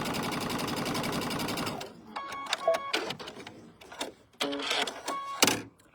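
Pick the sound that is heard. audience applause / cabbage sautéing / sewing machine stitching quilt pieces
sewing machine stitching quilt pieces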